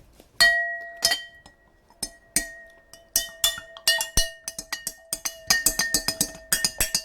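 A spoon stirs oil and water in a glass for a kids' liquid density experiment, giving a run of bright ringing clinks that start sparse and quicken into rapid, close, clattering taps.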